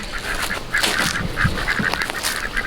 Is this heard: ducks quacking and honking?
yes